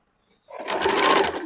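Sewing machine stitching the curved sleeve seam of a princess-cut kurti, starting after a short silence into a steady rapid whirring run, close and clear.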